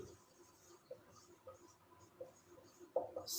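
Pen scratching across paper or a board during a finance lecture on share-holding consolidation, faint and quiet with soft irregular strokes and a few slightly louder taps, no talk over it.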